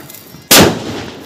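A single sharp, loud bang of a firecracker bursting the wrong way during Diwali celebrations, close by, breaking a quiet lead-in and leaving a rumbling tail that fades slowly.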